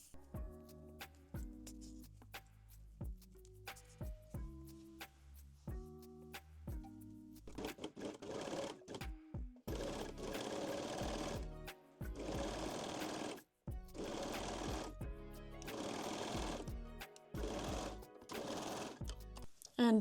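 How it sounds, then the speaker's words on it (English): A sewing machine stitches elastics onto underwear in bursts of rapid mechanical whirring, starting with slower, uneven stitching and then settling into longer runs with brief pauses between them, close and clear with no talking. "I recommend to baste the elastics together so they won't move when we sew them on the machine"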